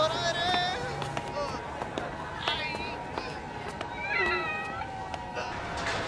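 A cat meows repeatedly in short rising cries over a busy background of voices and movement, the calls coming in several bursts across the moment.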